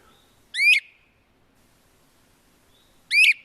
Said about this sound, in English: we'll get the great crested flycatcher